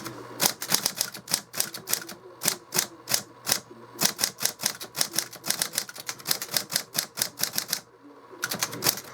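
Rapid, steady clacking of a 1964 Olivetti Praxis 48 electric typewriter's keys struck one after another, close and crisp, with a short pause near the end before typing resumes.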